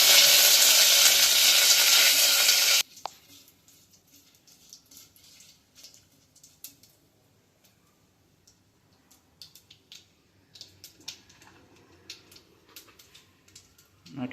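Curry leaves and chillies hit hot oil for a tempering, making a loud burst of sizzling for about three seconds that stops abruptly, followed by quiet kitchen ticks and faint clicks.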